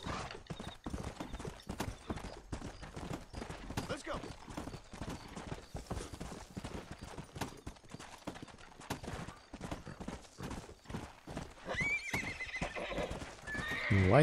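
Rapid rhythmic hoofbeats of a galloping horse in the video game Red Dead Redemption, steady and close, with a neigh near the end.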